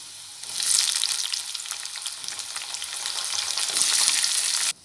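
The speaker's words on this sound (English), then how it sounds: "Now I am going to add tomatoes." Tomatoes hit a hot pan of frying garlic and chilies with a loud, steady sizzle that swells after a moment, accompanied by light stirring, and stops abruptly at the end.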